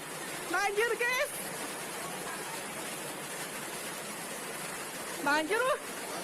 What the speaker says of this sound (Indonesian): Banjir guys.